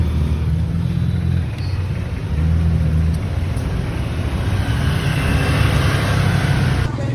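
Steady engine rumble and road noise fill the interior of a moving car on a city street, continuous and close throughout with no talking.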